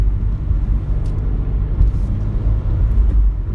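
A deep, steady engine rumble with a throaty exhaust note from a 2016 Subaru WRX while driving, running continuously close by with no talking.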